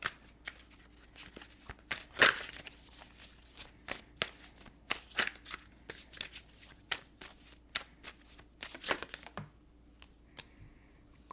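Tarot and oracle cards being shuffled by hand in a quiet room, a steady run of crisp, close riffling bursts with one louder flurry early on, ending in a brief pause with no talking.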